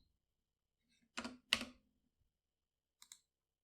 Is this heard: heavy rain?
no